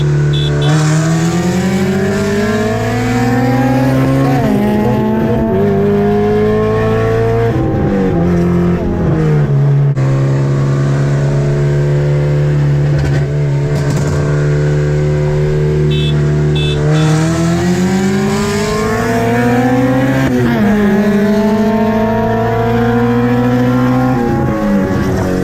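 An Acura RSX engine roars as the car accelerates hard through second gear, a loud continuous rising rev close to the listener that climbs, drops briefly between pulls, and climbs again.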